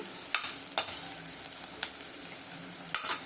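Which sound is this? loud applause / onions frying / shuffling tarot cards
onions frying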